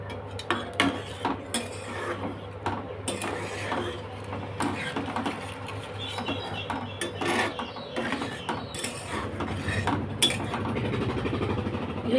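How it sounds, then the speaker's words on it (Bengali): Broth is poured into a pan for pakal fish curry, with clinking metal utensils and pan rattles, scraping, and a rising bubbling pour toward the end. "এবার আমি ঝোল দিয়ে দেব।"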